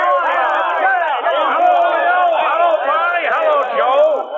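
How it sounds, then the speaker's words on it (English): A crowd of henchmen lets out a loud, sustained cheer, many voices whooping and shouting together close up, with a brief dip before swelling again. "he's greeted by a loud cheer from his henchmen"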